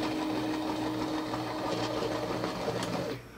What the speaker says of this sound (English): Still a little grinding in there, but I think that's gonna settle down as the parts wear.